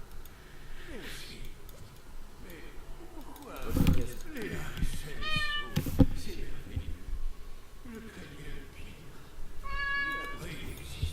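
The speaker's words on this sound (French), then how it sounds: "j'entends mon chat qui miaule à côté de moi." A cat meows several times nearby, short drawn-out cries scattered between muffled speech and light handling noises.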